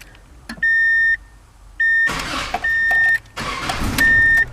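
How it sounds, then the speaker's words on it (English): A 1997 Subaru Legacy's starter cranks in an enclosed garage during a remote start install: several sharp electronic beeps come between short, rough bursts of cranking, close and fairly loud. "I'm going to go ahead and crank it as if it's turning on"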